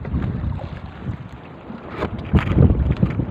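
Gusty wind buffets the microphone on a boat at sea in loud, uneven surges, with a rushing low rumble that swells stronger toward the end, no one speaking.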